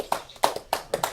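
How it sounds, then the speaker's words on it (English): A few people clapping for award winners at a school assembly, with sparse, uneven hand claps landing in small bursts about every quarter to half second, close and fairly soft. "Give them a round of applause"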